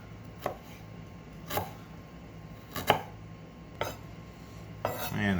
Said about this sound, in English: we are going to want to quickly, roughly chop up this ginger into smaller pieces